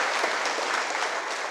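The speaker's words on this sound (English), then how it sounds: "Let us offer a clap of praise." A church congregation claps in praise during a worship service, a steady dense wash of many hands sustained throughout at moderate loudness with no talk over it.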